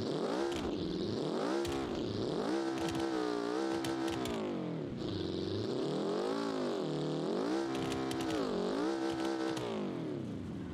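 A turbocharged car engine in the BeamNG driving game revs continuously, its pitch swooping up and down through repeated rises and falls, with no pauses.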